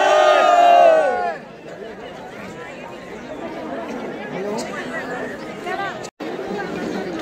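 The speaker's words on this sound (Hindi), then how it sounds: "देख सकते हो कितनी भीड़ है भक्तों की मंदिर के पास" Many devotees chatter together at the crowded Kedarnath temple, a dense babble of overlapping voices that follows a louder voice close by at the start, with a brief dropout near the end.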